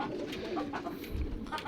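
Pigeons in a loft coo nearby, a few soft throaty coos standing out over a low murmur of other birds, no talk.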